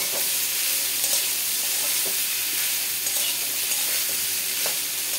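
Ridge gourd fries over lowered gas heat in a pan with salt, slit green chillies and a little sugar, making a loud, even, close sizzle with occasional stirring scrapes.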